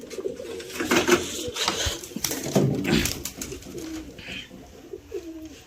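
Domestic Madrasi-type pigeons kept for sale coo repeatedly in low, rolling phrases, close and fairly loud, with a busy, slightly noisy backdrop and no talk.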